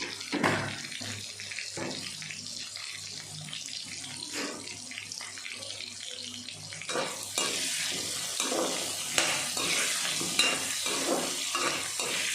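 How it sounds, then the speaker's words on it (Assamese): Potatoes frying with salt and turmeric in a pan, a continuous close sizzle with busy stirring and scraping, growing louder in the second half. "আলুখিনি অকণমান ফ্ৰাই কৰি ল'ম।"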